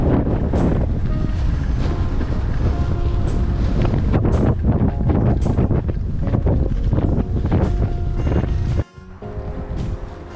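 Heavy wind buffets the microphone during a bicycle ride along a country path, a loud continuous roar with gusty surges that drops away abruptly near the end.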